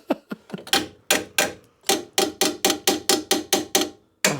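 Metal tool blows strike a Rover 75 during repair work, with a Spanish horseshoe tool used as the hammer. About fifteen sharp, loud knocks land close by, irregular at first, then settling into a quick, even rhythm.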